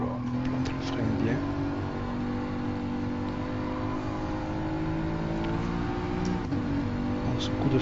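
A car in Gran Turismo Sport brakes hard, its engine note winding down beneath steady game engine drone while someone talks over it throughout.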